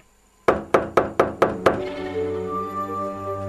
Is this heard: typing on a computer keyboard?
no